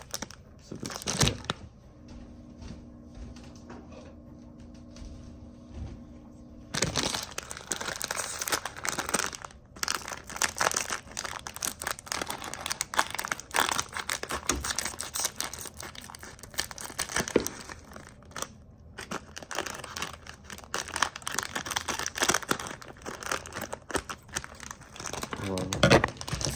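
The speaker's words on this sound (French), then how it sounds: "on va ouvrir ce petit paquet" A small food packet is torn open with loud, close crinkling and crackling of plastic that goes on in bursts across the clip after a quieter start, with a voice speaking at times.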